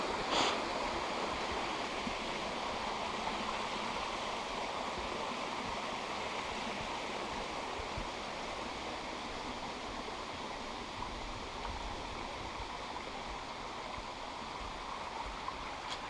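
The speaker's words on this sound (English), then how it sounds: "just before the waterfall, which again is nice and cool, and we love the sound" Steady, full-band rush of a waterfall and creek at Baskins Creek Falls, a continuous close roar of falling and flowing water holding level throughout with no voices.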